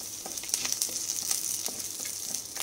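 Curry leaves and onion fry gently in oil for a Kuttanadan-style pearl spot fish mappas, producing a soft, steady sizzle with scattered small crackles, fairly quiet and without voices.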